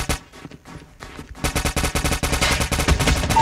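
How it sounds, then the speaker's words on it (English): Call of Duty Mobile gameplay delivers rapid automatic gunfire, a few scattered shots at first, then a loud, sustained burst of fast, evenly spaced rounds. "I shot one kid like 20 times."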